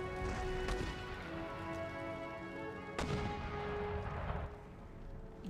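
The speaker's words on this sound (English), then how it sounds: "Mortars are firing on my flankers" Mortar and musket fire in Empire: Total War, a dull continuous battle rumble with two sharp cracks standing out, the second louder, then the din fading slightly.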